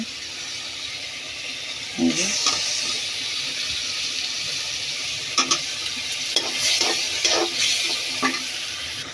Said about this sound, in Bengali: এখন টমেটোগুলো দিয়ে দিচ্ছি।